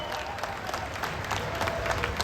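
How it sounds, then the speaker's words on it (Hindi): An audience at the Delhi Metro Pink and Magenta Line opening ceremony applauds, a dense continuous wash of many hands clapping in a large space. "चाहूंगी कि जोरदार तालियों से आप सभी लोग अभिनंदन करें।"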